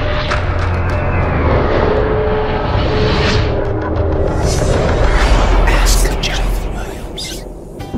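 A car drives through the Arizona desert, its engine and tire rumble a steady, loud drone that swells slightly midway and runs throughout without pause.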